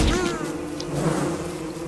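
Bees buzzing in the survival video game Don't Starve, a close, steady insect drone that fills the whole moment with faint background sound.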